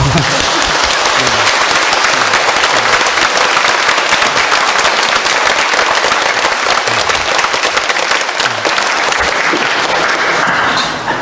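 Congregation applauding during Palm Sunday Mass in a Catholic church, a dense, loud, steady wash of clapping that fills the space for the whole stretch, without pause.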